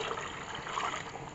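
Water poured from a container into a cooking pot of rice, a steady trickling, gurgling pour lasting throughout, close and moderately loud with no talk.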